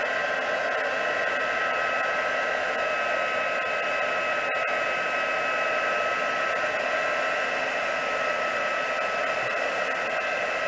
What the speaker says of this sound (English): And my heat tool's not heated up yet